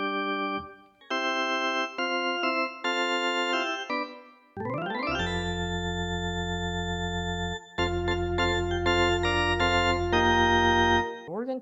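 NUX NCK-430 digital piano playing its Organ 1 voice: sustained, bright organ chords with a rich stack of harmonics, a rising glide partway through, then held low chords, played alone and fairly loud.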